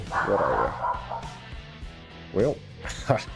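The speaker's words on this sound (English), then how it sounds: "That is our dog, one of them." A household dog barks and yips a few times in the room, sharp bursts mixed in with someone talking over it.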